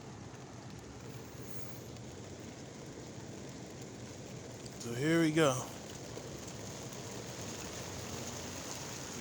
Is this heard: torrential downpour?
yes